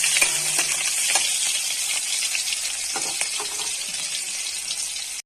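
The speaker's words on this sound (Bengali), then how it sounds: "পেঁয়াজ কুচি দিয়ে দেবো। পেঁয়াজ কুচি দিয়ে একটুখানি নাড়াচাড়া করে নেবো।" Chopped onions sizzle and fry in hot oil in a pan for potoler dorma, a steady broadband crackle with scattered sharp clicks and scrapes of stirring, close and continuous throughout.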